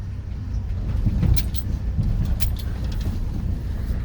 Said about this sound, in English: will it start? It will now. And it'll run pretty good too.